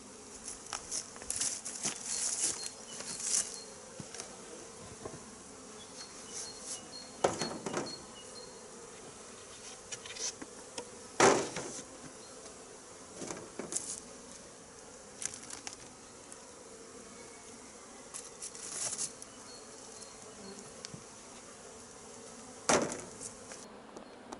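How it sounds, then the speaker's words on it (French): Busy insect buzzing from many honeybees at an open hive in an apiary in February, a steady hum with occasional louder passes close by, plus scattered clicks and taps throughout. "je ne dérange pas les abeilles parce qu'elles sont toujours isolées"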